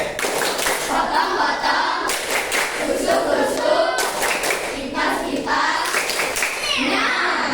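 Schoolchildren at an elementary school in Palembang do the 'tepuk sate' clapping ice-breaker, bursts of brisk rhythmic group hand claps in repeated patterns with short pauses between rounds, close and loud, kids' voices mixed in.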